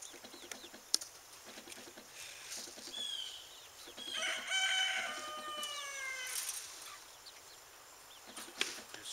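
Backyard chickens in a coop, with a rooster crowing loudly at mid-distance and hens clucking softly around it, amid a faint outdoor background.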